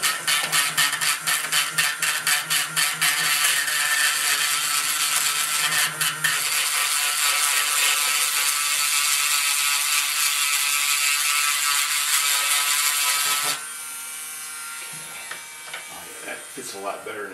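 A Dremel rotary tool grinds a sculpture commission, a loud, steady high-pitched whir with buzzing texture that runs unbroken for most of the span, then drops to a quieter, thinner tone near the end.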